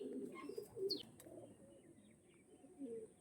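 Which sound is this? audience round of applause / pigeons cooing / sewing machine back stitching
pigeons cooing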